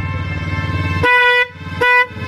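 A newly fitted car horn sounded twice after low engine idle: a loud, bright, steady honk of about a third of a second, a short gap, then a second similar blast, with the engine rumbling underneath.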